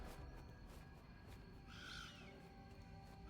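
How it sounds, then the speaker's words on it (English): A bird call from the fantasy action game Last Epoch rings out as a short, clear whistling chirp midway, heard faintly over a low steady game ambience. "Otherwise, I'm gonna keep hearing this bird."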